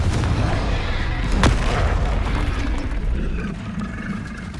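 Confringo blasting spell cast in Hogwarts Legacy, a sharp booming burst near 1.5 seconds over dense, continuous game combat noise, with a low rumble running throughout.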